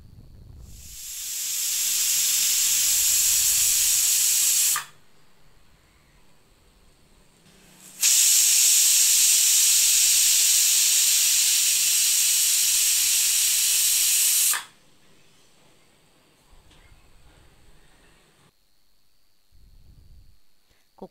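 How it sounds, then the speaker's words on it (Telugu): Pressure cooker releasing steam on a stove while rice cooks, two loud sustained hissing bursts of about three and six seconds, separated and followed by quiet background. "మూత పెట్టి 2 విజిల్స్ వచ్చే వరకు ఉడికించుకోవాలి"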